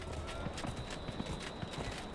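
Horse hooves clip-clopping at a steady trotting rhythm in the game Dragon Age: Inquisition, close and fairly loud over a soft ambient bed, with no talking.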